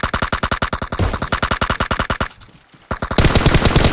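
An M416 rifle in PUBG Mobile firing long rapid automatic sprays, close and loud, with a brief pause before the fire resumes even more intensely.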